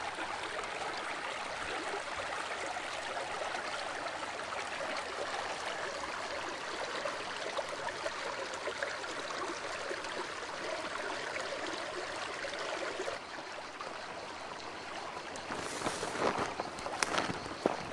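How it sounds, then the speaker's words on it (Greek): Running stream water flows steadily through open countryside near Edessa, a constant broadband rush with a brief brighter splash near the end, heard alone with no talk. "Παντού νερά τρεχούμενα."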